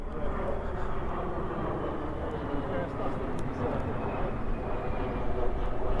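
A military transport aircraft makes a pass overhead, a steady broad engine roar that holds loud throughout with no break, heard outdoors near houses.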